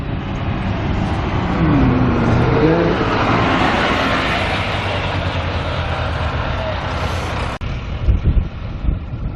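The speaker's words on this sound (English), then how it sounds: "1:23, the bus arrives on time." Bus pulling into a holiday park car park in Filey, Yorkshire, early morning, its engine and road noise swelling to a loud, steady rumble over several seconds with wind buffeting, then a sharp break and some low knocks as it stops.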